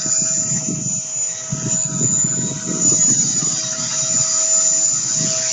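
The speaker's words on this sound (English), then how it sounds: "Here's my guy, my helicopter. Look at the helicopter." A small E-flite Blade 130X remote-control helicopter whines steadily with a high constant rotor tone, buzzing loudly and continuously close by, with gusty wind rumble underneath on a windy day.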